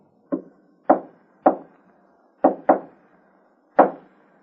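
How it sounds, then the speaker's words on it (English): Knuckles rap on a wooden door in a signal pattern: six sharp, close, dry knocks, three single raps, then a quick pair, then one final knock, with silence between. "After you have had glass tested for fingerprints, you will return to living room, knock on door this way."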